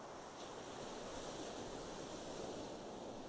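Pacific Ocean waves, a steady full wash of surf with a constant roar and wind, close and continuous throughout with no voices.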